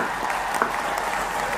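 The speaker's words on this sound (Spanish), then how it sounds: "¡Aplausos!" A burst of applause sound effect, with dense, steady crowd clapping that holds an even level from start to finish and has no voices over it.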